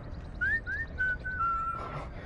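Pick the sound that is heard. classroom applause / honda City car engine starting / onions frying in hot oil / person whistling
person whistling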